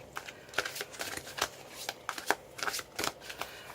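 Oracle cards shuffled by hand, a quick series of crisp riffling and slapping bursts in an uneven rhythm, close and fairly loud.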